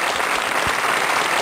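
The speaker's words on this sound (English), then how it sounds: "My artificial applause." Artificial applause sound effect: a steady wash of clapping from a crowd that holds at an even level for a moment, with no voices over it.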